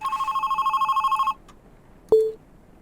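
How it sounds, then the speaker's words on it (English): A telephone bell rings loudly in a rapid trilling burst for about a second, then falls silent before a short, sharp tone follows; no voices. "And then the phone rings when the phone rang."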